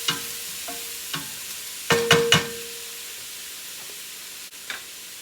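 Onions sautéing in a pan give a soft steady sizzle and hiss, broken by a few louder stirring scrapes and clinks, close by with no one speaking.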